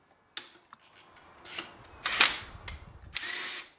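An electric wrench spins off the wheel nuts on a BMW K1600 motorcycle, heard as several short, loud, close whirring bursts with brief gaps between them and no talking.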